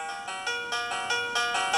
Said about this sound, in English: This is a doorbell.